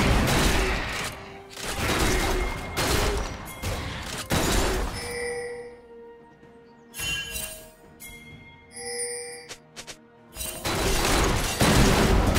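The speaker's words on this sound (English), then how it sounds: "Red team's turret has been destroyed." A turret is destroyed in the video game League of Legends, heard as a dense burst of loud crashing impacts and booms in several clusters, with quieter ringing effects between them.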